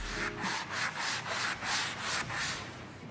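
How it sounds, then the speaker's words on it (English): Alder wood doors being sanded by hand, a close rhythmic scratching rub in about eight even back-and-forth strokes, moderately loud and alone. "we're sanding these doors, getting ready for our second coat"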